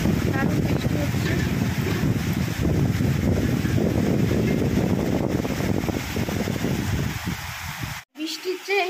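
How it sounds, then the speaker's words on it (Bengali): Heavy rain driven by strong wind under a cloud-covered sky, a loud, steady roaring wash with gusty buffeting on the microphone, continuous throughout before cutting out briefly near the end. "দারুণ বৃষ্টি হচ্ছে।"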